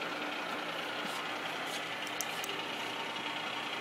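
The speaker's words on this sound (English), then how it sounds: "Just turned on the feed motor. He's feeding the table. That's rapiding it." A Sharp milling machine's feed motor drives the table, giving a faint, steady mechanical whir with no breaks.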